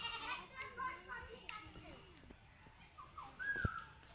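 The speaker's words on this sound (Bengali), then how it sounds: "আর এইদিকে ছাগলগুলো বাঁধা আছে" Tethered goats in a rural Bangladeshi village yard give a couple of short bleats, the clearest near the end, amid children's voices and outdoor chatter.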